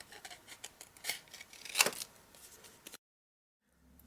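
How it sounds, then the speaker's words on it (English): Scissors snip through paper in a few quick, crisp cuts close by, ending in a sharp slice before falling silent. "cut from the fulcrum, I think it is, from this side of the scissors"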